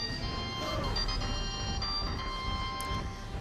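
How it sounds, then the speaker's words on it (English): Castlevania-themed phone ringtone chiming as a steady electronic melody, moderately loud and continuous, over game background sound with no talking. "Yes, that's my Castlevania ringtone"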